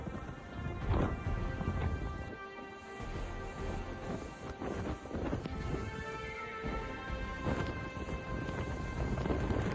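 Hurricane storm over Pensacola Bay, with steady heavy rain and wind roaring throughout and several deep rumbles of thunder rolling under the downpour.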